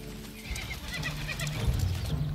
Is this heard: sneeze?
no